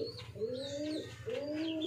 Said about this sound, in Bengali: আমার কবুতরগুলো কিন্তু এখানে থাকে